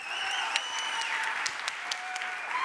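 An audience at a LEAP Week 2025 talk gives a steady round of applause, dense continuous clapping filling the whole stretch with a few sharper claps standing out, and no one speaking over it.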